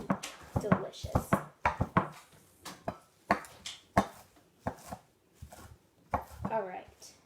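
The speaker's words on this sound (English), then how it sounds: "kale, and we're just gonna roughly chop it" A knife roughly chopping kale on a cutting board makes irregular, close thuds and crunches under steady talk from a person.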